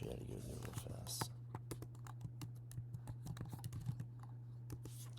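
Fingers tap out a quick burst of clicky keystrokes on a computer keyboard, close but soft, over a steady low electrical hum.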